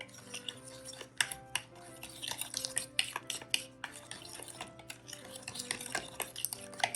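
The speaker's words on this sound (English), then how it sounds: "And then we're just going to mix that around. Mix it up real good." Egg custard pie filling with butter mixed in a bowl with a fork, giving steady close scraping and clinking against the bowl with faint tapping, continuous over the whole stretch.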